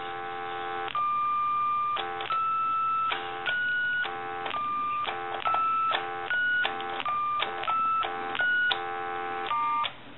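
A run of touch-tone dialing beeps from a Western Electric Princess telephone under repair, each key press a short steady dual tone separated by brief gaps, sounding close and clear over a faint hum.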